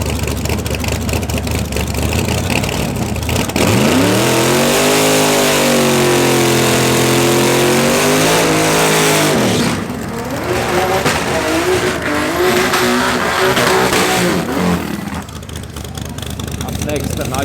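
Drag racing cars launching side by side at Tarlton International Raceway: a loud, sustained engine roar with rising revs sweeping up through the gears, steady and close, dropping slightly as the cars pull away, with an announcer talking over it.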